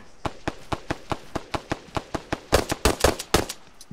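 Rapid gunfire in the Arma 3 video game, a steady string of sharp shots at a quick even rhythm, then a louder, denser burst of heavier shots near the end, all close and loud.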